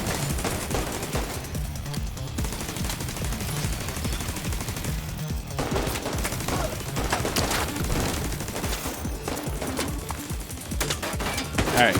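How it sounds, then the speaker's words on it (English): Automatic gunfire in the video game Division 2, aimed at a speaker box, sustained rapid bursts fill the clip, loud and dense with only brief gaps. "Yeah, he's definitely just shooting the box."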